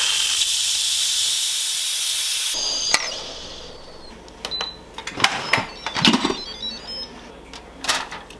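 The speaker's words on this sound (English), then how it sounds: "so I'm doing a quick pressure release" A pressure cooker vents steam in a quick release: a loud, continuous hiss lasts a couple of seconds and cuts off abruptly, followed by scattered clicks and light clatter close by.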